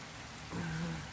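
Rain falls steadily on a vegetable garden of eggplants as a soft, even hiss of drops. It is fairly faint and close, and a brief low tone rises partway through.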